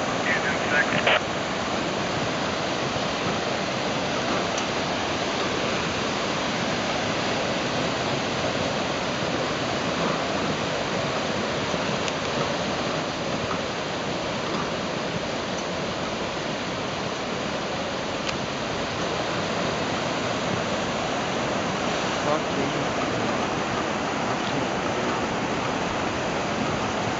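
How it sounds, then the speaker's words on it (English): Floodwater from the Schultz Fire burn area rushes downhill as a steady, loud broadband roar that holds without a break throughout. "Probably a foot and a half to 2 feet of water at the top coming down"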